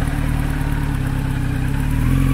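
A 950cc superbike idles just after starting, a steady close engine throb that rises slightly toward the end, with no talk over it.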